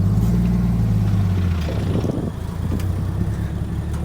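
Chevy C10 truck engine running as it drives, a low rumbling hum that is steady at first, then dips and roughens into uneven engine noise, with no talking.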